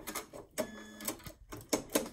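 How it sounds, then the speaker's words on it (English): A sewing machine stitches black quilt binding up to a corner, a faint series of short mechanical bursts and whirs with brief pauses between them. "I sew almost to the corner"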